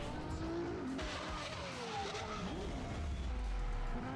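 A Ferrari Aperta sports car drives hard with a continuous engine roar. Its tires squeal and skid in long wavering tones across the whole stretch, heard fairly close and without any talk.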